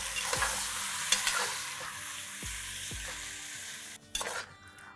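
Onions sizzle steadily in a hot pan while a utensil stirs and scrapes the bottom a few times, ending with a louder clatter.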